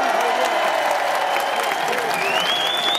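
Warm audience applause at an anniversary evening event, dense sustained clapping from a crowd with some cheering and voices mixed in, loud and continuous.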